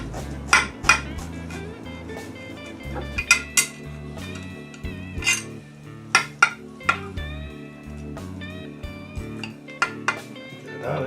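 Metal utensils cut through sage dressing on a china dish, giving repeated sharp clinks and scrapes at an uneven rhythm, close and distinct against a quiet room.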